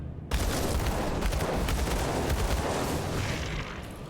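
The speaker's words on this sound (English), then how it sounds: "Flashbang." Flashbang and dual-pistol gunfire in the game Grim Dawn burst in suddenly after a brief silence, then carry on as a dense, continuous crackle of rapid shots and blasts.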